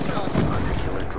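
Gunfire in the Call of Duty: Black Ops II video game, a dense, continuous burst of rapid shots heard loud and close, with a voice talking over it.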